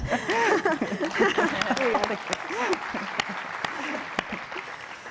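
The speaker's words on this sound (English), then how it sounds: "I almost think it deserves a round of applause" Audience applause at a public talk on the young brain, a dense crowd clapping across the whole stretch with sharper individual claps standing out and voices talking over it.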